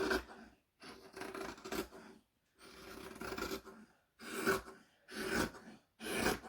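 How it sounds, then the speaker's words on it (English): Scissors cut through quilting fabric, the blades leaning on a tabletop: steady rasping strokes in separate bursts with short pauses between, close and fairly quiet. "And I'm always leaning the scissors on the table as I'm cutting."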